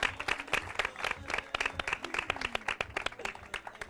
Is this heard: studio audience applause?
yes